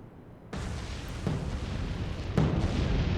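Three heavy naval gun blasts thunder out in the Atlantic Fleet video game, each a sudden deep boom followed by a long rumbling roll that overlaps the next shot.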